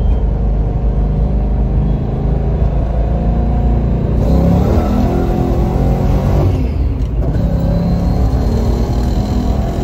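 Ford Foxbody with a swapped V8 5.0 pulling hard in second gear toward about 3500 rpm, a loud continuous engine roar heard close from inside the car, with a rising rev and a brief shift-like dip near the end.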